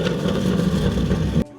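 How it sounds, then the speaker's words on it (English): Camaro ZL1 with an overly loud exhaust revving hard nearby, a dense, continuous low growl that holds steady before cutting off abruptly near the end. "The exhaust is just a little too loud for him"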